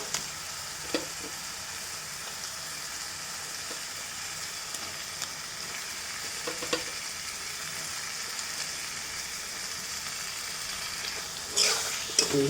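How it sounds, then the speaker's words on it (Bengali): Mutton frying in masala in a pan gives a continuous soft, close sizzle, with occasional scrapes and knocks of stirring and a louder clatter of the pan near the end. "মাংসটা দিয়ে কষি।"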